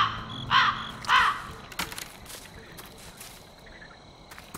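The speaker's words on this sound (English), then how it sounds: "Stop it, birds. Crows." Two sharp crow caws ring out close together near the start in a cursed-forest video game, followed by faint rustling ambience.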